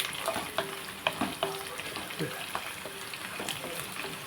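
Dried red chillies sizzle and crackle in a pan for red broken-wheat upma, with scattered pops and stirring scrapes, close and moderately loud, with faint voices in the background.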